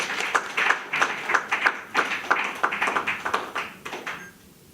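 An audience at a political speech claps, a dense run of applause with sharp, rhythmic clap bursts that rises and falls for several seconds before fading out.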